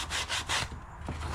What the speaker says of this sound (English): you just go back and forth, kind of like you're washing it, but with a scuff pad